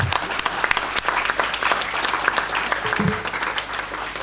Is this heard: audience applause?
yes